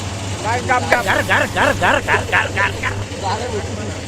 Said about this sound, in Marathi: अरे इंजन कोणता स्टार्ट केला रे भाऊ, एवढा आवाज यायला लागला